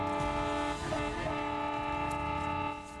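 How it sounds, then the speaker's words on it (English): Football players honk their car horns to greet fans as they drive away from Reliant Stadium, producing loud, sustained, overlapping horn tones that hold steadily and fade a little at the end, with no talking. "That's the players honking their horns to acknowledge loyal fans as they left Reliant Stadium last night"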